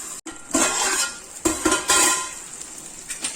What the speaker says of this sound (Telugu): దీన్ని మూత పెట్టి ఒక 5 మినిట్స్ ఉడకనిద్దామండి.